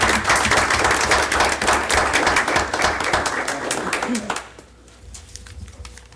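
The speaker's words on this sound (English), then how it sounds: "let's give them a round of applause for their work" Applause for police officers and dispatchers at a Franklin city board meeting, a room of people clapping loudly for about four seconds before it drops off abruptly to quiet room noise.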